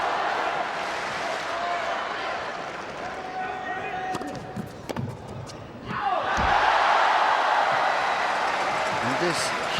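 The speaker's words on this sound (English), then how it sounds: "And this huge crowd, most of them Federer fans, apart from the small band of Argentine supporters with their flags, willing Federer on" A large tennis crowd in Shanghai, mostly Federer supporters, during the final against Nalbandian: a dense roar of cheering and applause that dips briefly mid-way, then swells loudly again, with a commentator talking over it.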